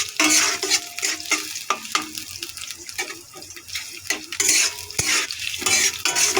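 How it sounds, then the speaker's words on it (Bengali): Chopped onions sizzle and crackle in hot oil in a home kitchen while a utensil stirs them in repeated scraping strokes, close and fairly loud, with bursts of frying hiss throughout. "পেঁয়াজ কুচিটা এবার এখন দিয়ে দেবো, তেল গরম হয়ে গেছে। পেঁয়াজটা আমি হালকা বাদামি কালার করে ভেজে নেব।"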